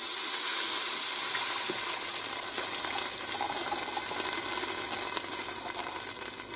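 A loud, steady hiss and sizzle of liquid poured into a hot Ninja Foodi pot to deglaze it after searing chuck roast, continuous and close, slowly easing off toward the end.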